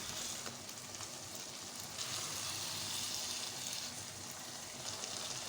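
Chicken sizzles and fries steadily in a pan while being cooked for Lahori murgh cholay with fresh coriander, a continuous close hiss with light stirring and no talk.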